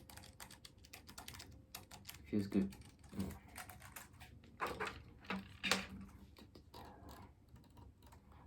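Typing on a Keychron K7 keyboard with blue switches, a close, steady run of clicky keystrokes with a few louder clacks, and a brief spoken comment partway through.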